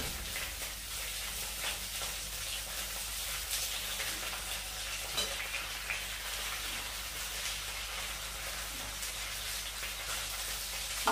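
Ginger added to potato and coconut frying in oil in a wok, giving a steady, close sizzle with occasional crackles that runs on evenly throughout.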